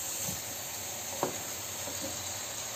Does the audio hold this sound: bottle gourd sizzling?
yes